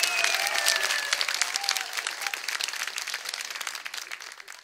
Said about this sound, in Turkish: derneğimizin folklor ekibine de bir alkış alabilir miyiz lütfen?